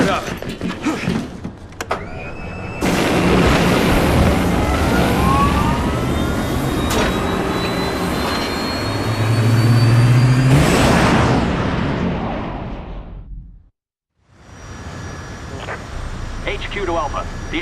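An aircraft engine in Resident Evil 6 spins up and builds to a loud, sustained roar with rising whine, running for several seconds before cutting off abruptly, then resuming at a steady level.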